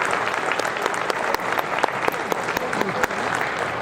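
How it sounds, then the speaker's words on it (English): Audience applause rings out at a Chamber of Commerce awards dinner for the Bacchus catering team, steady dense clapping from a full room that holds for several seconds. "I think they deserve a round of applause."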